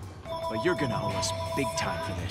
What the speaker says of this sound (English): we apologize for that stupid phone ringing